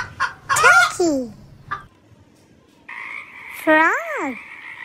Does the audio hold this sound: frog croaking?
yes